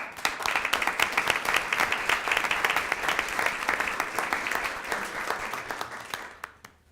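Applause rings out at a community college board of trustees meeting as newly elected board members are welcomed: dense, steady clapping from a roomful of people lasting about six seconds before tapering off into a few last claps.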